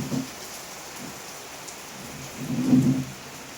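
Heavy rain pours steadily in a hot-weather downpour, with a low, faint rumble of thunder swelling briefly near the end under the constant hiss.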